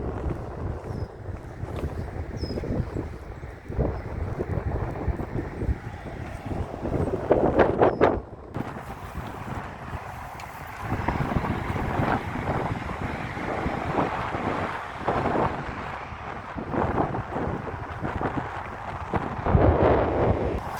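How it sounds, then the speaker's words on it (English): Strong wind roars and buffets the microphone during a walk through Coronation Park in Crosby-Waterloo, Liverpool, with loud, continuous gusty rumbling that rises and falls. "That wind is wild."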